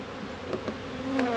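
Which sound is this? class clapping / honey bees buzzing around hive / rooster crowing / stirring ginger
honey bees buzzing around hive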